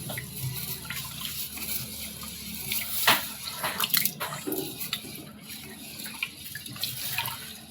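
Water runs from a tap into a cooking pot for chicken rice. The flow is a moderate splashing rush with a few louder splashes near the middle. No one speaks.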